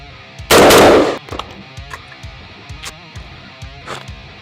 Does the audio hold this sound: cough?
no